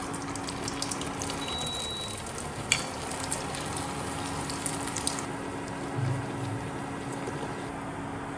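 Puris frying in hot oil give a steady, even sizzle and bubble that runs throughout at moderate level, with a couple of faint clinks from utensils and no speech.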